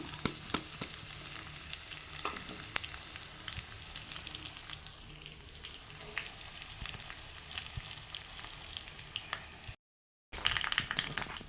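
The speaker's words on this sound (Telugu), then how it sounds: "ఈ పోపు అంతా బాగా వేగాలన్నమాట" Quiet, steady crackle and sizzle of mustard seeds, cumin, urad dal and asafoetida frying in hot oil, with occasional pops and a brief dropout near the end.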